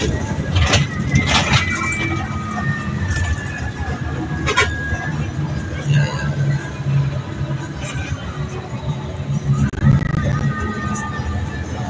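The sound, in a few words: bus interior while riding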